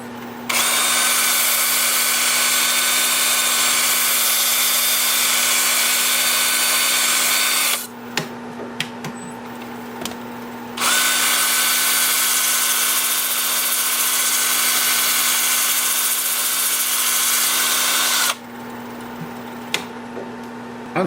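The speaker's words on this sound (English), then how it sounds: "I'm sanding with my 2-inch sanding disc starting at 120 grit" A 2-inch sanding disc on a power drill whirs against a wooden bowl spinning on a wood lathe at 120 grit, two long high-pitched runs separated by a short pause, close and loud with no talk.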